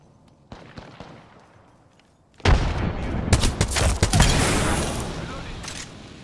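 Rapid gunfire bursts in the Apex Legends battle royale game erupt loud and dense after a quieter opening, with in-game voice callouts heard alongside.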